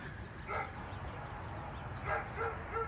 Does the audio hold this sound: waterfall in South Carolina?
no